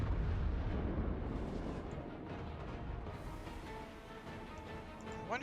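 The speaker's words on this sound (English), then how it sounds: "There go the cannons. Definitely causing some mayhem." Cannons fire in a fantasy war video game battle, a rumbling roar of heavy booms and blasts that is loudest at the start and then settles into continuous low battle noise, with no speech.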